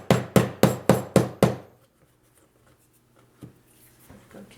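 Six sharp, evenly spaced taps on a metal piece being pressed into a scrapbooking paper furniture model, close and crisp, followed by quieter handling and rustling noises.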